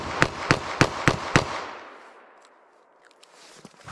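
Five loud gunshots from Hornady Critical Defense ammunition fired at a 7-yard target, sharp cracks about a third of a second apart with reverberant tails, followed by fading echo and a few faint clicks and handling sounds. No talking.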